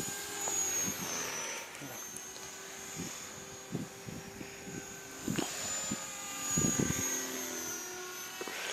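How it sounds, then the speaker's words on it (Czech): A small radio-controlled Mini Titan model helicopter flies close by outdoors in cold, muddy conditions, its steady high rotor whine rising and falling in pitch as it maneuvers, with a few brief thumps and bursts of noise along the way. "kdyby se ten vrtulník blížil ke mně"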